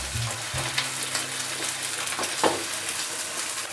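Eggs go into a pan of frying polenta, setting off a fresh hiss after an opening clunk, then a soft steady sizzle with a few scattered crackles.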